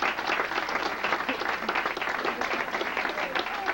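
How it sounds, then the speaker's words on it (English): Audience applause at a Queens Borough Council Hall awards ceremony for a social worker of the year in New York, steady dense clapping from a seated crowd sustained throughout at moderate level. "That's an applause line."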